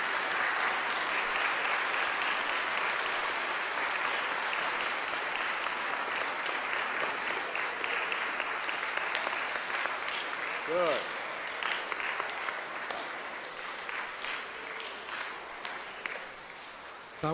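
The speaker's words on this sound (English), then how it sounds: "Let's give all of our children a round of applause." Children and congregation applauding at a school All Saints Mass, sustained indoor clapping that gradually thins over many seconds, with a brief voice heard partway through.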